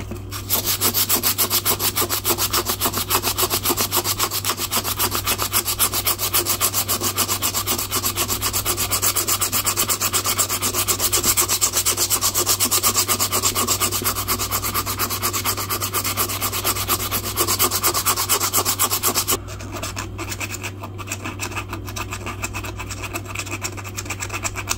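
A J. Martini filet knife is sanded by hand in a steady, close rasping rub that runs continuously for about nineteen seconds, then drops to a quieter, thinner scraping.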